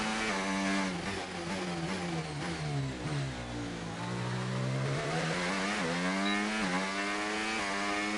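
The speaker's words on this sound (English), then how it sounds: "So weird hearing this Renault engine again" Renault Formula 1 engine in the racing video game F1 25, a loud, high-revving whine that rises and falls through gear changes, dipping in pitch around a slower section before climbing again, heard alone without talk.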